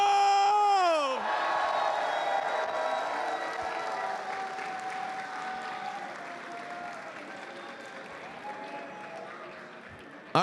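A Smash tournament crowd applauds and cheers loudly and continuously, with screams and whoops rising over the sustained clapping after a brief opening sound cut off.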